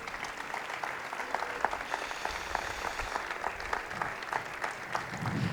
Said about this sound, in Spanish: Així que un fort aplaudiment per a elles.